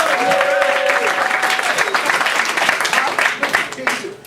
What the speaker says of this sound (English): So give us all three rounds of applause.